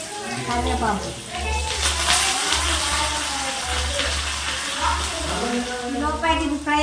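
Curry leaves tempering in hot oil in a pan, a continuous loud sizzle and crackle, with a voice talking over it.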